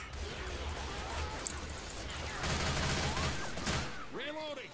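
Rifle fire in the Left 4 Dead 2 zombie shooter, a few sharp gunshot bursts over a busy game mix with voices and effects, loud and close.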